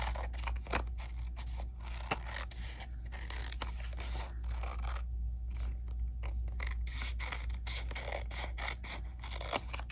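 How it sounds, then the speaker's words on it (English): Scissors snip repeatedly at close range, a quick irregular series of crisp cuts over a quiet background. "I'm going to just cut it with my scissors"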